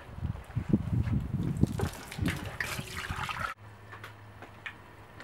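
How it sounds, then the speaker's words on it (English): Water running into a canning pot stacked with 24 jars of salmon, a steady splashing pour that rises and churns, then cuts to a quieter low hum. "We need to fill it with water to just above the top of the jars."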